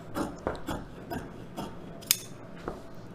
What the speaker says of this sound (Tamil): இப்போ இந்த அளவு இப்படி கட் பண்ணி எடுத்துக்கலாம்.